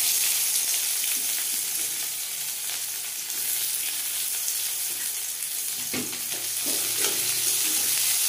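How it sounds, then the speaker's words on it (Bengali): Chopped onion sizzles steadily in a pan of hot oil tempered with bay leaves, dried chilli, cumin, cardamom and cinnamon, a constant close hiss with a few stirring scrapes near the end. "ফোড়ন ভাজা হয়ে গেছে, দিয়ে দিচ্ছি কুচানো পেঁয়াজ।"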